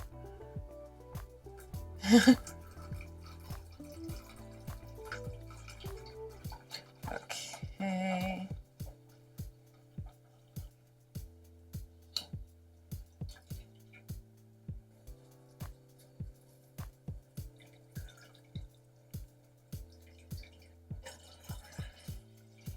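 Juice and pulp from a Ninja Blast blender drip through a strainer, giving a steady series of small, close, evenly spaced drips with some louder pouring and handling noise near the start.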